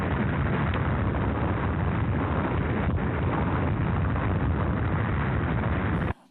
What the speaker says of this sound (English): when the city was leveled by the most powerful bomb the world had ever seen